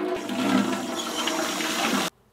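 Hot water runs from a tap into a bucket with a steady, close splashing rush for about two seconds, then stops abruptly; no one speaks.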